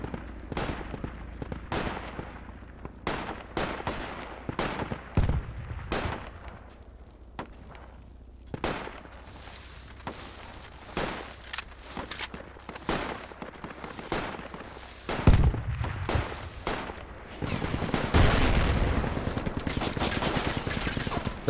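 Project Reality machine gun fire in repeated rapid bursts across the whole stretch, with sharp single rifle cracks mixed in and a few heavier booms, some shots close and loud, others more distant.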